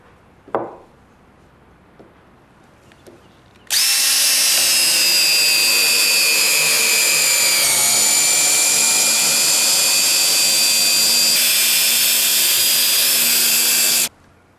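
A power drill drives a SPAX screw into wood, a loud steady whine running about ten seconds after a brief knock, then stopping abruptly.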